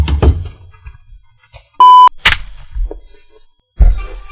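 A short electronic phone beep sounds right after a call is hung up, a clean steady tone lasting about a quarter second, set between nearby thumps and handling knocks.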